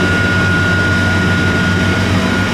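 A dairy milking system runs steadily as it draws milk in, producing a loud, continuous mechanical drone with a low hum and a thin, constant whine. No voices are heard over it.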